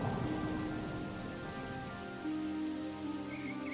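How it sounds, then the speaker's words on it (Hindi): Steady rain falls during a storm, a dense, even hiss of drops hitting surfaces that continues throughout, fairly loud and close, with no voices. "जब तक कि यह बारिश नहीं थम जाती"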